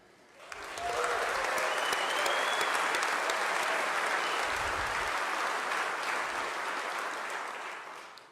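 Audience applause swells quickly and holds strong for several seconds at the Oklahoma State of the State address, a large indoor crowd clapping together before slowly fading out.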